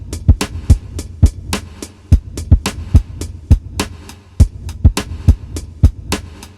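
A sample is played through the ambience reverb effect of a Roland SP-555 sampler, giving loud repeated thumping hits in an uneven rhythm, each hit trailing off into a short reverberant tail, with no talk.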